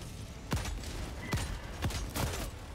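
Gunfire aimed at bot gunships in Helldivers 2, four separate bursts spaced about a second apart, each with a falling whine, over a steady roar of game noise.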